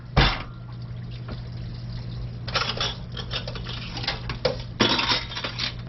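Dishes being washed by hand in a sink of hot water: clinks of plates and pots against each other, scrapes and splashes in a few loud bursts over a steady low hum.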